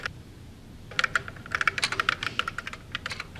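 Computer keyboard typing, close and clear: after a second of quiet, a rapid, uneven run of crisp key clicks continues to the end, with no voices.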